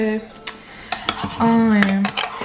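A spoon is taken out and cutlery clinks in a home kitchen, with several bright metallic taps and rattles close by, and a voice sounding over and between them.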